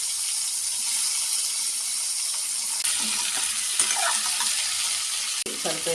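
Pounded garlic and onion fry in a couple of spoons of oil for a drumstick fry, a dense, close hiss running throughout with occasional soft stirring clinks in the second half.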